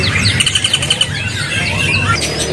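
A caged jalak kebo starling at a bird market kiosk chirps in quick, bright bursts of rapid tweets, close and loud, with steady market background noise beneath.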